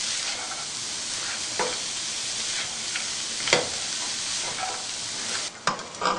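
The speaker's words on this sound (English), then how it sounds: "that's been stir-frying for about 2 minutes, and it's perfect." Continuous loud sizzling of cabbage and carrots stir-frying in a hot pan, with occasional scrapes and tosses of a utensil.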